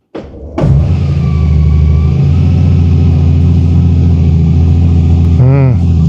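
A Honda Gold Wing motorcycle starts up close by with a short cranking whir, then catches into a loud steady idle, with a brief rising and falling warble near the end.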